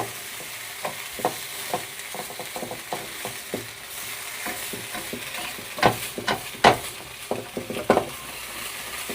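Bacon fries in a pan for a burger bacon cheese roll, with a steady close sizzle broken by frequent scraping and tapping as it is pressed and stirred against the pan bottom.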